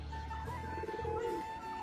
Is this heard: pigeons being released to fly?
yes